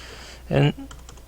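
A brief burst of computer keyboard typing while a spreadsheet function is entered, a short cluster of key clicks close by, with faint speech-like sound around it.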